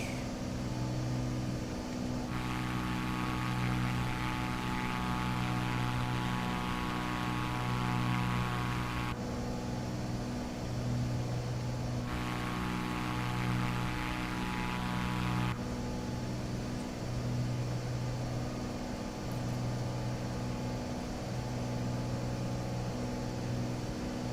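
A light aircraft engine in Microsoft Flight Simulator 2024 hums with a steady droning, propeller-like tone. The level shifts in several distinct steps as the throttle is pulled back, with no talk over it.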